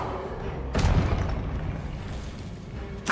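A Confringo explosive spell blast from the Hogwarts Legacy video game erupts as a single loud broadband boom, followed by a lingering rumble and a second sharp burst at the very end.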